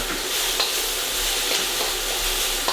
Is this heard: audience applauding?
no